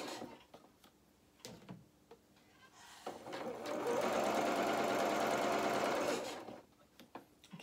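A sewing machine stitching fabric for doll-sized suit trousers, one loud sustained whir of about three seconds amid scattered quieter clicks and handling before and after.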